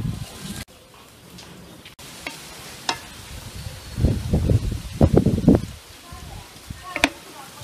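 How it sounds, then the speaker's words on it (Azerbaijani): Wind blows outdoors in uneven gusts that rustle and buffet, growing louder toward the end, while a person talks. "Dostlar, hava küləkli."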